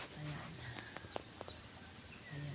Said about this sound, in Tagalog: Mga ibon lang ang ating marinig dito.